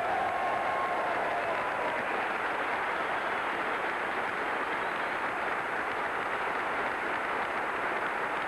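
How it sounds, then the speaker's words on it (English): Sustained applause from a White House audience honoring B-52 crews and returned prisoners of war, a steady dense wash of many hands clapping for the whole stretch at moderate level. "all of us would like to join in a round of applause for the brave men that took those B-52s in"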